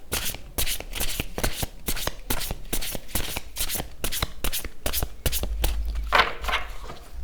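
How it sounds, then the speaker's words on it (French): A deck of oracle cards is shuffled steadily, a quick run of crisp riffling slaps close up and fairly soft, with no talking. "ce jeu, les cartes se mélangent tellement bien"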